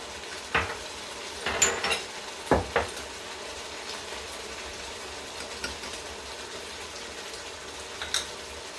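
Potatoes and eggplant are stirred with spices in a simmering tomato sauce, with a spoon scraping and knocking the pot several times over a soft, steady sizzle, close by and with no talking.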